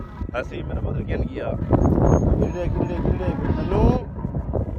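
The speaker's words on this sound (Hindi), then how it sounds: "हवा बड़ी तेज़ चलती पई है" Strong wind buffets the microphone at an outdoor riverside headworks, a steady low roar with gusts. Someone talks over it throughout.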